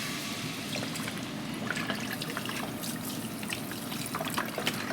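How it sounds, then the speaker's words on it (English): Chicken broth is poured from a 32-ounce container into a crock pot for gumbo, giving a steady, soft trickling and splashing of liquid that runs continuously at close range with no talk. "We'll pour the chicken broth in here, try to get a little more of this roux out."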